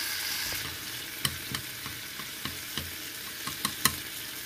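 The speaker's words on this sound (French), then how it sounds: "je vais faire cuire le taro." Taro simmering in a pan with salt and a splash of water, a soft steady sizzle with light scattered clicks and taps of a utensil, close and fairly quiet.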